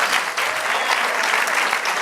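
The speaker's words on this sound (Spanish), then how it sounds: "Dar un aplauso al Señor." A congregation at a church service claps steadily in dense, sustained applause filling the room, with no pause for about two seconds.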